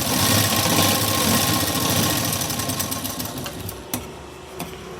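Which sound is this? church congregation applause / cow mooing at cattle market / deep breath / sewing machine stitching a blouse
sewing machine stitching a blouse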